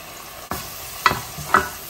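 Onion cooking with salt, ginger and black pepper in a pan, a low steady sizzle broken by three distinct scraping stirs of a utensil, close and fairly quiet, no talking.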